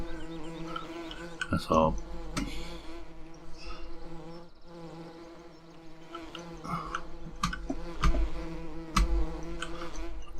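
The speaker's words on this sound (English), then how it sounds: "Let's get a picture of some bees, shall we?" Bees buzzing around a farm, several insects droning close by in passing waves with a low engine rumble underneath and a man's brief spoken remark.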